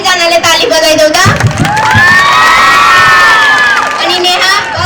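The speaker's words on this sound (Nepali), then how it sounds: "नेहाले सबैजनाले ताली बजाइदेऊ त" Children cheer and shout together in a loud group, a long sustained whoop rising over the crowd noise in the middle before trailing off, with voices throughout and no distinct claps standing out.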